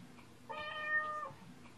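A single clear cat meow, drawn out for under a second, alone against quiet indoor background.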